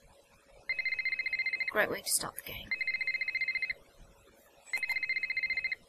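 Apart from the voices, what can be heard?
telephone ringing in the video game Ghost of Thornton Hall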